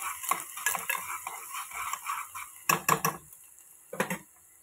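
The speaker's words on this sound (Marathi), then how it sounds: "त्यानंतर आपण टाकूया थोडासा कढीपत्ता, थोडासा कांदा, हे असं सगळं आपण परतून घेणार आहोत" Curry leaves and chopped onion stirred in a pan, with a spoon clinking and scraping against the metal in a few bursts over a soft background sizzle, close and fairly loud, no talk.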